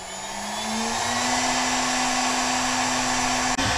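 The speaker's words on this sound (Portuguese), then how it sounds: "Perceba, meu spindle ligou." A CNC router spindle set to spin at 15000 rpm whines steadily and close, a constant high motor tone with broadband airflow hiss that holds at one level for nearly four seconds, with a brief dip near the end.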